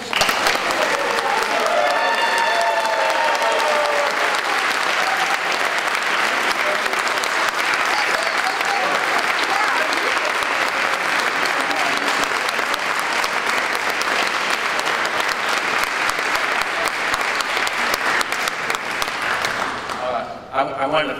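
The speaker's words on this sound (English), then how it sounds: "I wanted to thank you all for coming and for your applause" Sustained, dense applause from an audience after a state representative's oath of office, steady and full for about twenty seconds with a brief voice early on, fading at the very end.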